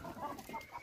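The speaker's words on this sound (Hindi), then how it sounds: "कंदारी मुर्गा है भाई ये" A Kandhari Aseel rooster clucks in a few short, close calls, a broken run of soft throaty notes over a dull background, with no voices.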